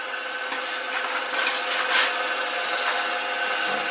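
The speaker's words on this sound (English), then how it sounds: "Now, we'll just sand that in." Sandpaper rubs against an all-wood pen on a lathe, a continuous raspy scraping with slight swells in intensity, close and alone without talk.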